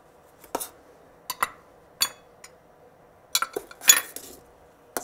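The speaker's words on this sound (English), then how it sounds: "just kind of lightly stir it as you go" A spoon knocks and scrapes in a pot of cinnamon sticks, sugar and golden raisins being stirred, giving scattered clinks and taps with short pauses between them over a quiet background hum.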